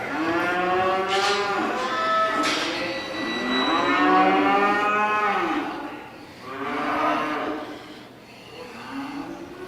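Heifers at a fall fair commercial cattle show in Edam, Saskatchewan, give several long, loud moos one after another, close by, with faint background murmur between calls.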